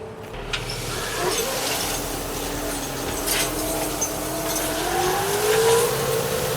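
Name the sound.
tractor driving while pulling a chain harrow and broadcast seeder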